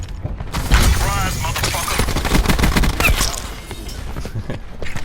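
KAP 45 hip-fire in Black Ops 4 lets out a loud, sustained burst of rapid automatic gunfire lasting several seconds, with mechanical clatter layered over it and the shots packed tightly together.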